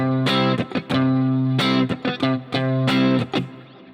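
Electric guitar strums a rhythmic chord groove with a distorted, effected tone, hitting chord stabs in short repeating bursts with brief muted gaps, loud and close with no voices.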